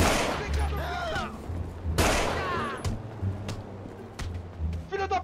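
Video game gunshots in a roleplay session, several loud reverberant cracks with ringing tails spaced across the stretch, followed by a quick rattling burst near the end, over a low background rumble.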